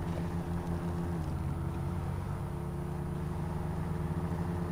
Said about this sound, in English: They really got to fix the engine noise in this thing.